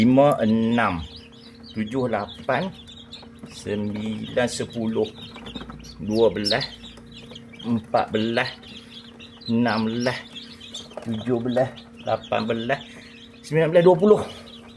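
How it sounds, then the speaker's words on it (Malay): Rhode Island Red chicks cheep in short bursts of high peeping throughout, close and fairly loud, with a person talking in between and over them. "ni cik anak ayam jenis Rhode Island Red"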